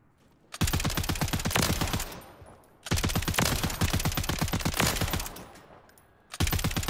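Two long bursts of rapid automatic gunfire from a weapon in the video game Warzone, loud and close with tight rhythmic shots, separated by a short pause, then a third burst starting at the end.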